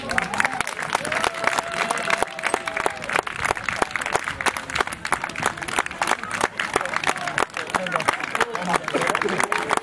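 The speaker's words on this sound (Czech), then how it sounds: "So applause for the winner and also for all judges who contributed to the dramatic, wonderful atmosphere." Crowd applauding the winner and judges at a competition event in Rožnov, sustained clapping mixed with crowd noise while a voice speaks over it throughout.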